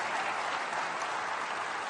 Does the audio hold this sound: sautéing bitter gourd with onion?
no